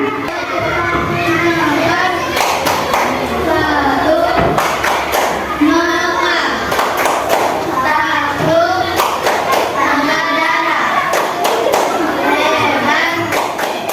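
Students in a classroom applaud a student group, with bursts of clapping repeating in clusters while children's voices and a teacher's voice talk loudly throughout, close and lively.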